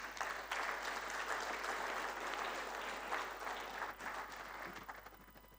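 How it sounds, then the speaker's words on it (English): Conference audience applause fills a large hall, a steady wash of many hands clapping at a distance, fairly faint and continuous, tapering slightly toward the end. "Another round of applause"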